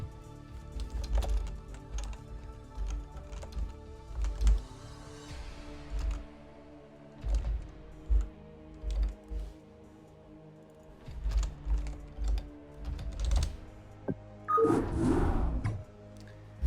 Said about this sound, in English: I'm typing all kinds of things and the screen is off